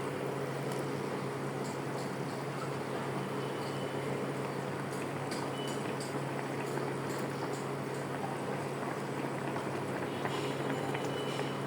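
Water bubbles steadily in a pot for cooking hilsa fish curry, a continuous close-up simmer with no talking.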